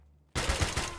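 Gunfire from a gun in the video game Escape from Tarkov: quiet lead-in, then a sudden loud burst of rapid shots with several punchy reports in quick succession.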